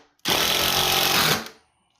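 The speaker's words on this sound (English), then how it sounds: "I'm going to use a 3/4 inch drill bit for my 1/2 inch pipe." A short, loud burst of power drilling with a 3/4 inch bit, a harsh rattling whir lasting just over a second before winding down to silence.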